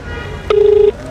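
A telephone line gives a clear electronic tone lasting under half a second, followed by the start of another, loud and close over quiet room noise.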